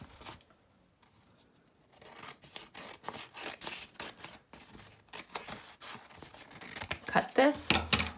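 Scissors snip through sketchbook paper in a quick run of close, crisp cuts after a brief quiet start, with a louder rustle of handled paper at the end.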